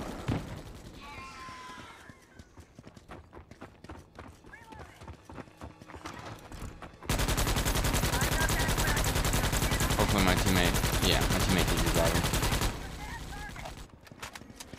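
Sustained automatic gunfire in a video game shooter, a dense loud burst lasting several seconds after quieter stretches with scattered sounds and a voice talking.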